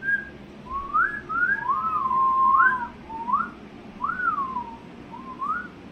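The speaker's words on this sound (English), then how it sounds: "You know that slide whistle on SpongeBob?" A cartoon-style slide whistle effect like the one in SpongeBob, made of a string of clear, gliding whistled notes that swoop up and down over six seconds and stand alone without talk.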